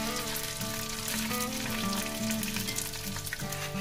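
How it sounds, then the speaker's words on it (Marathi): Edible gum (dink) frying in oil, a dense crackling sizzle with bubbling pops throughout, steady and fairly close, no voices. "आता इथे आपण 100 ग्राम डिंक घेतलेला आहे आणि हे सुद्धा आपल्याला तेलामध्ये तळून घ्यायचं आहे।"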